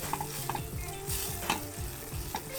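Garlic sautés on medium heat in a pan for a spicy garlic chicken wing sauce, a soft steady sizzle broken by repeated stirring scrapes and light utensil taps against the pan, close and fairly quiet.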